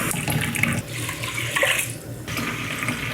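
Water pours steadily into a pot for cooking jasmine rice, a close, continuous splashing rush lasting about three seconds with a brief dip midway.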